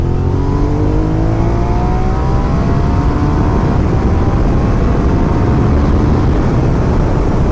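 A second-generation Suzuki SV650S motorcycle accelerates hard, its engine note climbing through rising revs in a loud, continuous roar with heavy wind rush, no voices.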